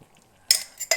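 Two quick clinks of glass and metal against each other, close by, as half-liter glass jars are handled and filled with hot salad.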